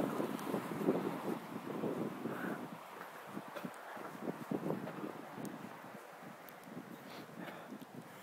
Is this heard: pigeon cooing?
no